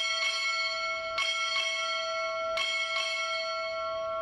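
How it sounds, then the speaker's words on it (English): At an indoor NROTC graduation ceremony, a naval ship's bell strikes six times in three pairs, each clear ringing stroke overlapping the lingering tone of the one before, with no voices. "Time order, strike six bells."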